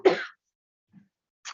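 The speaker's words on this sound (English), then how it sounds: "I might hand this over to Attorney Wheel if I can't hold my cough down" A single short cough from a speaker at a formal evidentiary hearing, close and abrupt, followed by a faint throat sound and a brief breath in an otherwise quiet room.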